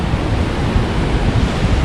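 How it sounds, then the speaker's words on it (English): River flowing near Baror Parsha waterfall close to Manali, a loud, dense, continuous rush of water roaring steadily close by, with wind buffeting the microphone and no talk. "Everybody's just standing by the road watching the river."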